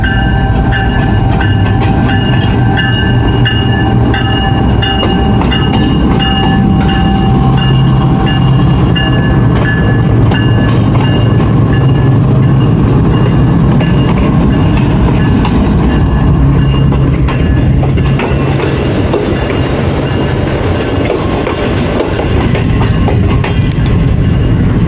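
A train passes at Khanewal Junction with a loud, close, continuous rumble, steady wheel clatter and faint metallic squeals the whole way through.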